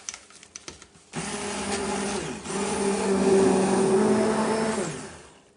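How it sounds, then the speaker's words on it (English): A stick blender mixing hot process soap whirs steadily for several seconds after a few clicks and knocks, its motor hum wavering slightly before winding down. "I'm going to take my stick blender,"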